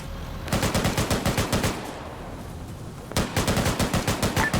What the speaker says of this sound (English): Hearing less gunfire now.